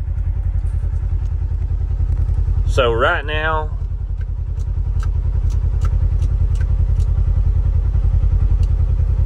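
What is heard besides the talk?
2024 Polaris Xpedition engine idling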